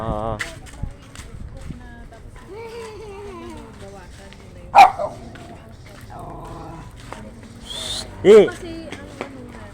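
A male dog lets out two sharp, loud barks a few seconds apart, close by, while people keep talking.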